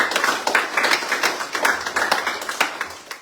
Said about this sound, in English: Let's put another round of applause for it.